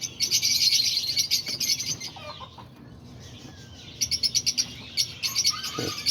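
An aviary of cockatiels, budgies, lovebirds and diamond doves fills the air with bursts of rapid chirping and tweeting, close and lively, broken by brief quieter gaps.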